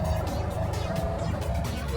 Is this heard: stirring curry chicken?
no